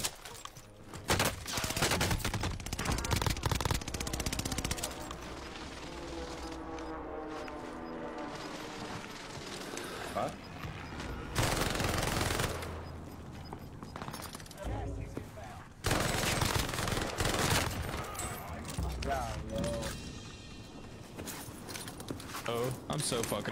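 Bursts of rapid automatic gunfire from a PPSh submachine gun in the video game Call of Duty: Warzone, loud and repeated across the clip, mixed with game sounds and a player talking over it.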